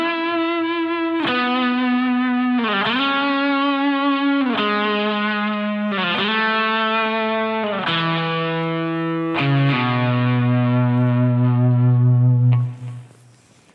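Distorted electric guitar with chorus and effects plays a sustained, sliding harmony line from a song, notes gliding between pitches in long held phrases, loud and close, ending with a fade.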